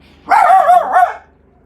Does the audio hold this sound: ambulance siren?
no